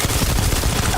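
Gunfire in the space game Starfield, a dense, loud burst of rapid shots packed into a single second, close and overlapping with no clear gaps.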